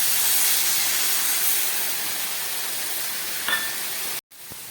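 Water with radish pieces comes to a boil in a cooking pot, giving a steady close hiss and bubbling wash that runs throughout, then a brief clatter near the end as a lid goes on.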